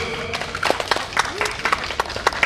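An audience at an outdoor song contest in a park claps in a scattered, uneven burst, moderately loud, with a voice carrying over the clapping.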